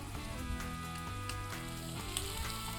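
Cauliflower pieces frying in a hot pan, a steady bright sizzle that fills the clip without pause, close up and heard alone.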